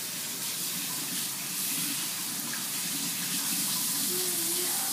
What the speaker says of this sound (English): I would simply rinse my cloth off.